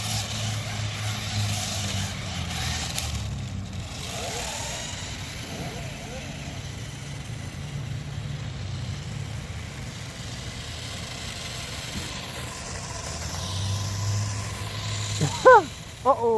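An Upriser 2 RC stunt motorcycle runs with a steady low motor drone close by, then a few sharp, louder bursts near the end.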